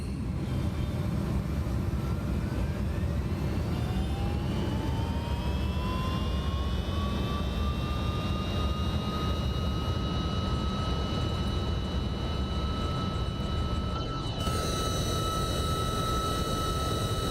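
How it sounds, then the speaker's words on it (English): An MD-11F cargo jet in X-Plane 12 spools up for takeoff, its loud continuous engine roar carrying a whine that rises steadily in pitch and then holds, before a sudden shift in tone near the end. "Takeoff, ladies and gentlemen, takeoff."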